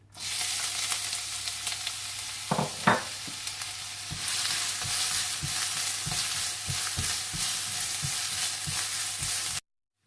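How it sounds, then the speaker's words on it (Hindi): Onions sizzle steadily in hot oil, with occasional scrapes of a spoon stirring the pan; the frying hiss grows louder partway through. "सबसे पहले आप तेल डाल लें, इसमें आप प्याज डाल दें और प्याज को आप हल्का सा ब्राउन कर लें"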